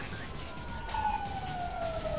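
Ambulance siren in Emergency 4 with the LA mod, a single wavering tone sliding slowly downward, moderately loud against a low background rumble.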